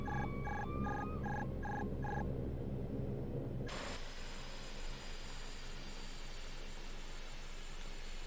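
A cockpit alert in a SAAB 340 in the X-Plane 11 flight simulator chirps in a rapid repeating, phone-like beep for a few seconds. Steady cockpit hiss and engine drone continue once the chirping stops.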